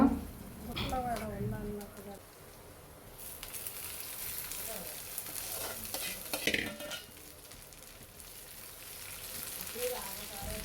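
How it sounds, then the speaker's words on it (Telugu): Tempering of curry leaves and cumin crackles and sizzles in hot oil for a Telugu dondakaya fry, with bursts of spluttering and clinking early on, then a softer steady fry under intermittent background talk. "సో అటు తాలింపు వేస్తున్నారు"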